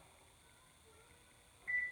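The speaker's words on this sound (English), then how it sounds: "Let me set the timer for 30 minutes" A kitchen oven's timer gives one short, clear electronic beep near the end, set for thirty minutes with the oven at 350, after a stretch of quiet room tone.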